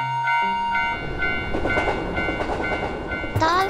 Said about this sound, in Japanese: 電車が来るよ